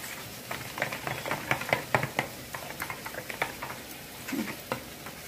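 A spoon stirs and mashes a paneer mixture in a bowl, giving a steady run of soft clinks and scrapes at a moderate pace, close and fairly quiet, with no talking.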